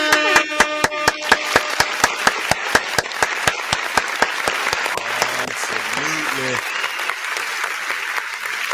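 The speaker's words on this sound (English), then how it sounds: "I think that deserves a round of applause." An audience applauds and cheers for a talk show's 50th episode, steady rhythmic clapping throughout with voices talking over it near the end.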